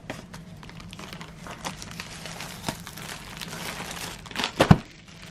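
Plastic wrap on a card box crinkles and tears as it is worked open with a perfume bottle, quiet rustling throughout ending in a few sharper crackling bursts.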